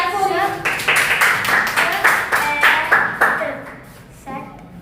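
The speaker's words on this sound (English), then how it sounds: "clapping. Clap for you." Rhythmic hand clapping during a phonics lesson on the /e/ sound, about a dozen crisp, evenly spaced claps close by, sounded together with a voice chanting along and ending in a brief pause before one last clap.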